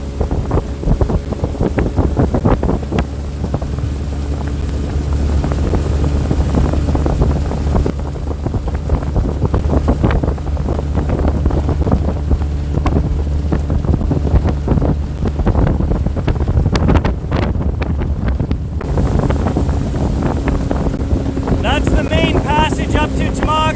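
A motorboat heading up a lake runs with a steady low engine drone, overlaid by heavy wind buffeting on the microphone and splashing water, loud and continuous throughout.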